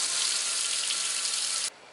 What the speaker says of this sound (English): next turn on some faucets and leave them running to empty the water out of the pressure tank